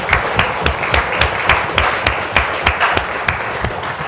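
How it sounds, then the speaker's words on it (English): A small group claps at a Silicon Valley leaders symposium for a diligent girl, with sharp, evenly spaced claps in a steady rhythm that continues for several seconds. "let's give a little round of applause to a little diligent"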